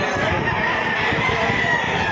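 A rooster crows at a chicken market, a single clear call heard moderately close over faint background murmur.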